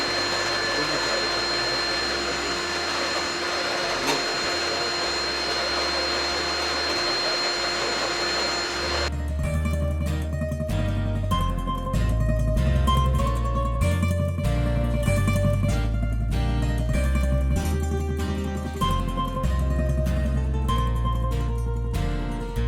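A stand mixer churns homemade pizza dough in a kitchen, a steady motor whine running throughout; the machine's drone sits under background music that enters partway through.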